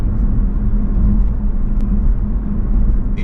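Steady low road rumble and tyre roar fill the cabin of an electric car cruising in flowing traffic with the air conditioning running, a constant loud drone with no talking.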